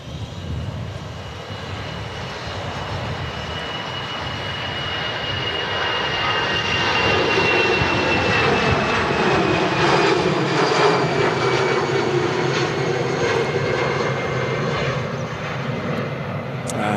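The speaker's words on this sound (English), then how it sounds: "There goes an EasyJet A319 heading off to Geneva." An EasyJet Airbus A319 airliner takes off at Manchester Airport on a windy day, its engine roar building steadily and holding loud and continuous, with no talking over it.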